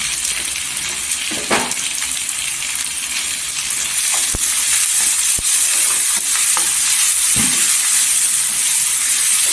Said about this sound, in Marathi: तेलावर परतून घ्यायचा टोमॅटो